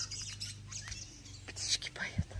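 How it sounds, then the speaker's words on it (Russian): Small birds chirp and tweet in a dacha garden in late May, scattered short bright calls at moderate distance over faint outdoor background, with a quiet voice briefly under them. "Птички поют."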